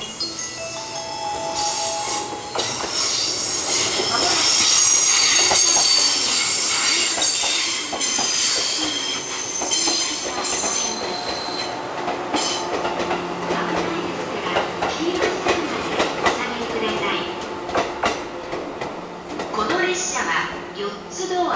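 A JR 415 series electric train rumbles and clatters into platform 12 at Oyama Station, Japan, wheels squealing on the rails, with a Japanese platform announcement and ambient voices mixed over the noise.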